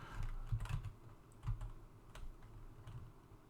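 Keys clacking on a computer keyboard while searching for PowerShell from the Windows Start menu, a quick cluster of close taps with brief pauses between them, no talking.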